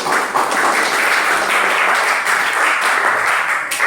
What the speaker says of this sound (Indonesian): Kita berikan aplaus untuk pelajaran kita pada hari ini